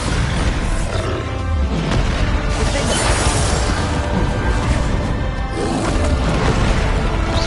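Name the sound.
spell explosion in the video game Hogwarts Legacy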